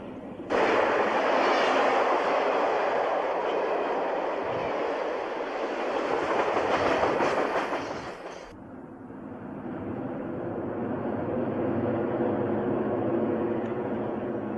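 A steady, loud rumble of two GP9 diesel locomotives hauling a five-car commuter train, engines droning continuously and shifting in tone partway through, with no voices.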